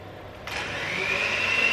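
Electric hand mixer beating muffin batter made with oat milk for apple and cinnamon muffins, whirring up from a quiet start and holding a steady, rising buzz for a couple of seconds.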